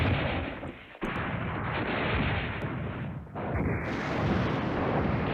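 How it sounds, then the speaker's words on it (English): Continuous heavy artillery fire rumbles in Command Ops 2, with dense, overlapping booms forming an unbroken roar, a brief dip near the one-second mark and another around three seconds before the barrage resumes. "Luckily, we got the artillery going here, which is great."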